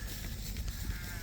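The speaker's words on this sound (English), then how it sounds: "Even the sheep are coming in too." Sheep being brought in from pasture for sale bleat faintly amid a steady wash of background noise on the farm.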